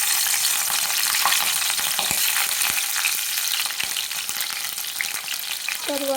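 Green chillies sizzle and crackle in hot oil for a Telugu-style okra tomato curry, a loud, continuous frying hiss broken by sharp pops and occasional stirring clinks near the end.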